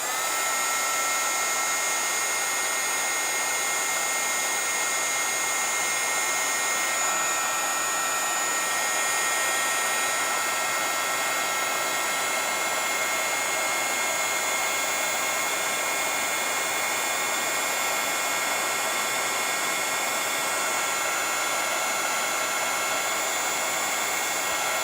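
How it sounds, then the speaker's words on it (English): A craft heat tool blows hot air to set embossing powder on a card, a steady, loud, unbroken whirring hum that continues throughout with no other sounds. "I'm gonna heat it up with my heat tool."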